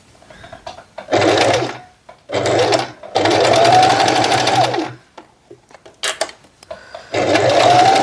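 A sewing machine back stitching a tote bag runs loud and close in several bursts of one to two seconds, stopping and restarting between short pauses with small clicks of the mechanism.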